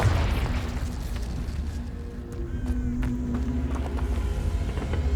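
Confringo spell explosion in the Hogwarts Legacy video game, a deep rumbling boom that fades into a low, sustained roar, with no talk.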